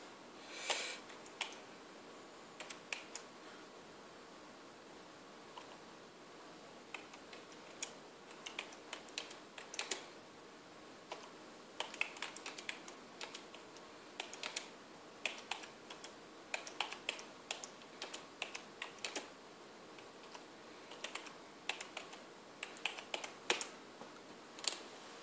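Typing on a computer keyboard in a quiet room, scattered irregular key clicks in short bursts with pauses, near and fairly faint, no voices.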